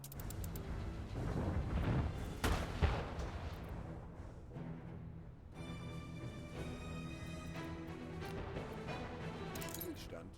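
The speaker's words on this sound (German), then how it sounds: "Beschuss." Artillery shelling in the strategy game Anno 1800: several heavy booms and crashes in the first few seconds, then a quieter stretch with tonal game sounds, mixed under background game audio.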